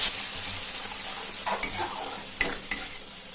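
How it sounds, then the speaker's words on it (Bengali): A water-soaked spice paste with cinnamon and cardamom fries in hot oil for a Bengali yogurt-and-parwal dish, giving a steady close sizzle with a few sharp stirring knocks and scrapes, no voices. "মিশিয়ে নিয়ে এটা একটু গুলে রাখা মশলাটা দিয়ে দেবো"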